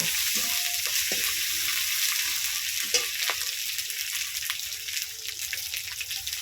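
Ginger, garlic and onion sizzle in a hot pan, a steady frying hiss with occasional stirring scrapes and clinks of a spoon against the pan, close and continuous.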